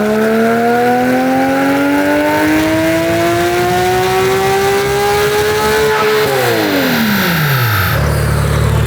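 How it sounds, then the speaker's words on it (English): A BMW on a dyno, its engine revving hard through one long rising pull before the tone drops away as the run ends, loud and continuous with no talking. "So we're gonna see what it puts down here on the same dyno as the E92 M3."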